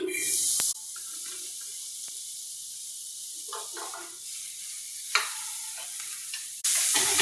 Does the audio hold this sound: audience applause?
no